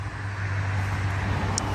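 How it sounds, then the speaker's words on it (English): Road traffic passes near a parterre garden, with a continuous low engine hum and a steady wash of tire noise. No voices are heard. "there's cars driving by"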